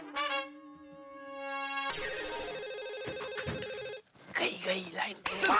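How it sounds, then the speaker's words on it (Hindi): A landline telephone bell rings in repeated bursts, a harmonic ringing tone, while people talk over and between the rings in a lively household scene. "देख जा रही घंटी जा रही।"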